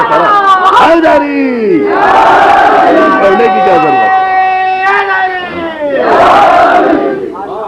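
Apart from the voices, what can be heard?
audience chanting slogans for Mola Ali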